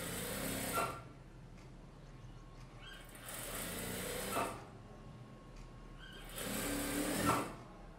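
An electric sewing machine stitches the back piece of a blouse: three bursts of fast, whirring, rattling stitching, each lasting about a second or more, separated by quieter pauses, heard close up.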